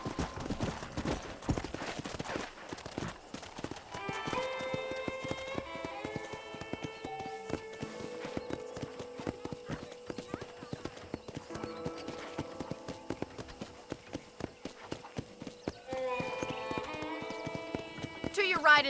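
Rhythmic hooves clip-clop at a quick pace throughout on a ranch in the video game Red Dead Redemption, with a horse whinnying and music and voices playing alongside.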